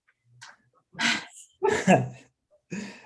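During a committee meeting, a single sharp sneeze bursts out after a faint inhale, followed by brief murmured speech, the whole thing close and clear against an otherwise silent room.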